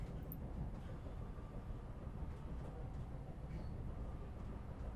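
A moving train rumbles steadily throughout as a continuous low, even roar of wheels and carriage noise, wobbling slightly as it picks up speed, with no voices heard.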